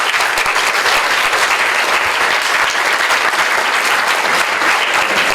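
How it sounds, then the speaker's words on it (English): Sustained, loud applause from an audience thanking a panel at the end of a Q&A event in Teesside, steady dense clapping throughout with no talk. "I'd like to have a massive round of applause for our panel"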